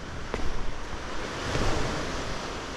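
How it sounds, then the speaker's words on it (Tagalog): Steady broadband wash of surf near Malabrigo Lighthouse in rainy weather, with gentle swells in loudness, waves rolling in under some wind noise, no voices. "naririnig nyo ba ang mga alon?"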